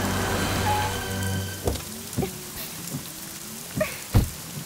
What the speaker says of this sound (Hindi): मैडम बारिश हो रही है